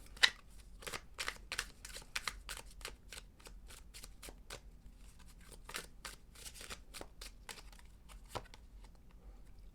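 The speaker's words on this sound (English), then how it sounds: "Let's pull some fallback cards." Oracle-style cards being shuffled and pulled during a Scorpio reading, a steady run of crisp, quick riffling clicks and snaps close up, quiet and without talk for about ten seconds.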